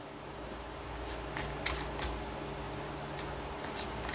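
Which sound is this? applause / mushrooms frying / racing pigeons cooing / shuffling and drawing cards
shuffling and drawing cards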